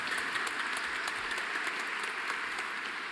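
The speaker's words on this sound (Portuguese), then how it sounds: "Uma salva de palmas à palavra." A congregation at a Catholic Mass in a Brazilian sanctuary claps for the word of God, a brief dense round of applause, steady and even, with no voices.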